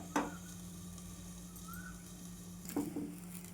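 Wheat flour breakfast dish cooking under a lid in a pan on a low flame, a soft steady sizzle with a low hum beneath and two brief louder clinks or pops near the start and end.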